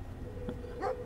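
A dog gives a single short, faint bark in the video game Brothers: A Tale of Two Sons, heard distantly against a soft ambient background.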